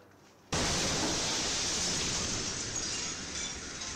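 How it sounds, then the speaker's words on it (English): A loud, sudden blast bang from an explosion in the sky, its shockwave arriving abruptly and leaving a broad, sustained roar that slowly fades. "The loud bang was that shockwave finally reaching us."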